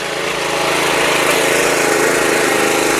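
A power weeder with rotary tines digging about eight inches into farm soil runs at a steady, loud, unbroken engine drone, close by and alone without any talk.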